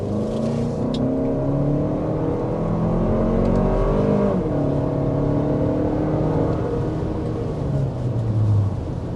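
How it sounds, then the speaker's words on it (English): A 2026 Lexus RX 350 under hard acceleration to 60 mph, heard from inside as a loud steady engine drone climbing in pitch, with a gear shift partway through and road noise underneath, no talking. "that was 60 miles an hour with the Lexus RX 350"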